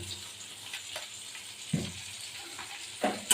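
Sugar frying in hot oil in a pan, a steady soft sizzle with a few brief clatters or stirring knocks, close by and with no voices.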